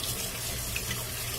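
Tap water runs steadily into a sink while hands are washed during a home cooking session preparing chicken salad stuffed tomatoes; a continuous, even splashing hiss close by with no talking.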